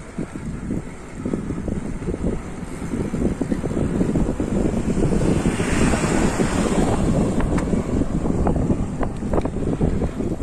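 Ocean waves at Tabunio beach in South Kalimantan: a steady roar of surf mixed with strong wind buffeting the microphone, continuous and loud throughout with no talk.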